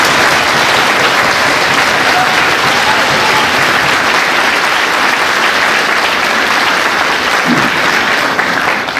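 A conference audience claps steadily, a dense, loud wash of applause from a large crowd that holds without a break for its whole length.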